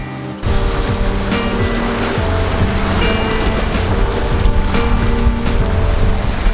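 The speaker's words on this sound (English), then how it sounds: "with the swell behind us and with just the right sail plan chosen, she will hold her own, cruising at a steady 5 to 6 knots" A 33-foot Hans Christian sailboat cruising through ocean swell at around 5 to 6 knots, heard as a loud, steady rush of water along the hull mixed with wind buffeting the microphone, continuous and close with no voices.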